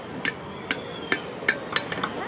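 Steel is struck with a hammer while forge-welding a horseshoe head, giving six or seven sharp, ringing blows at an uneven pace over a quiet background.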